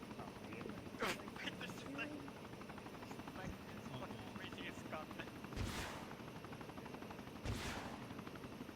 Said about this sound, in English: Why the fuck's it firing missiles into the abyss?